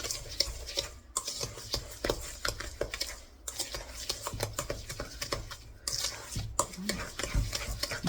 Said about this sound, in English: Stir this really good.